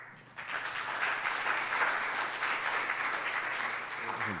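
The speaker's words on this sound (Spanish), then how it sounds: "Por favor, un aplauso para Rodolfo." An audience at a sustainable bond conference panel breaks into applause for a speaker, a dense steady clapping that starts abruptly and holds for several seconds before a voice begins to speak over the tail.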